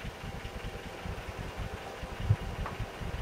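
A Series 3 Land Rover engine idles with the clutch depressed, settling into a low, steady rumble with a faint rhythmic tick, quiet and even throughout with one brief knock near the end.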